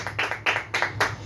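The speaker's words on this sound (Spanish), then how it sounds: "Démosle una alabanza de aplauso al que vive y reina por los siglos de los siglos." A church congregation at a Spanish-language worship service claps in praise, sharp hand claps landing close and loud in a quick, steady rhythm, roughly in unison, with no talking over them.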